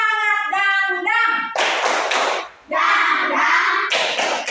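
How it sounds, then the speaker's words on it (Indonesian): Students in a classroom perform a rhythmic spirit clap, voices chanting in unison between bursts of close, loud group claps in a quick pattern. "Tepuk semangat dangdang."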